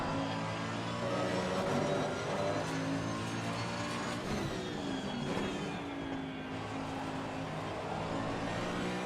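Mercedes-AMG Evo race car driven hard in Assetto Corsa Competizione, its engine a loud, steady sustained roar with shifting revs and a hint of tire squeal throughout, no voices.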